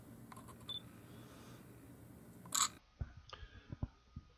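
A Nikon Coolpix P610 camera fires its shutter once, a short crisp mechanical click standing out from a quiet room, followed by a few soft handling taps.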